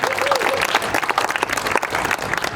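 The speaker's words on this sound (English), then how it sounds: "let's give them some applause for that" An audience claps and cheers at the Pulaski Days opening ceremony in Grand Rapids, Michigan, a dense, steady wash of applause from a crowd that continues throughout, with a voice faintly heard over it.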